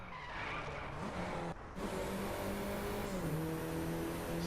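An Audi A1 in the Driveclub racing game skids its tyres under hard braking while understeering, a sustained scrubbing squeal over engine drone, with a brief dip partway through before the skid resumes.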